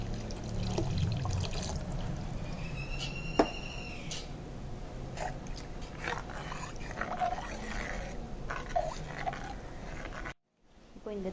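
Water poured steadily into a pot of fish curry, a gentle continuous splash and trickle close by, with faint clinks of a utensil.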